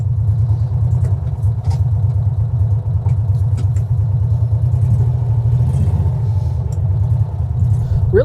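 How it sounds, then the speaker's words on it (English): The two-cylinder engine of a 2023 John Deere XUV 560E Gator runs at a steady idle, a loud, close, even low rumble with a smooth pulsing throb throughout. "Really smooth running for a 2-cylinder machine here."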